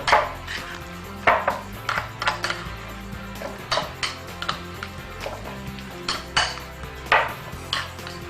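A spoon mixes chopped green onion into kimchi paste in a bowl, making a quick, rhythmic run of close clinks and scrapes against the dish.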